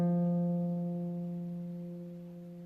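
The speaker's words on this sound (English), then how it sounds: "that is F, and it's the F just below middle C" A single sustained F just below middle C rings out alone, a clear steady tone with bright overtones that slowly fades over a few seconds.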